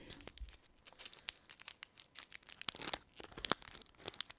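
Close, quiet crinkling and tearing of a candy wrapper being unwrapped, an irregular stream of small crackles and rustles with no talk.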